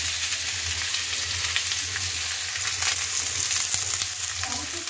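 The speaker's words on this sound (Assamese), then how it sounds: "এতিয়া পিঁয়াজটো অলপ ভাজি লওঁ" Onion frying in a pan on a home stove, a steady crackling sizzle over a low hum, continuous and close with no talking.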